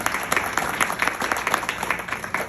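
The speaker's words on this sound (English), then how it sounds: "give one more round of applause to these two folks right here" Audience applause at an International Women's Day community event, a steady burst of many hands clapping close by, with no talk over it.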